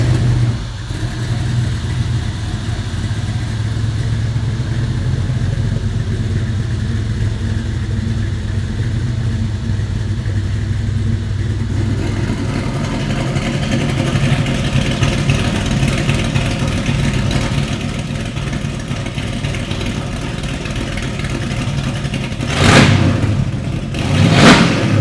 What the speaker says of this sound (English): this car has a few more tricks, including electric cutouts that really make it roar down the street